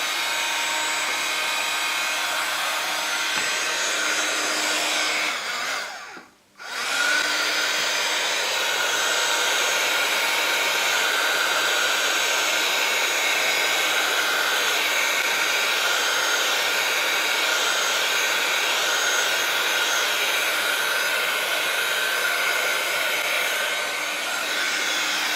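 A heat gun blows hot air onto watercolor paper with a steady, loud roar that cuts out briefly near the start, then resumes and runs continuously with no talking.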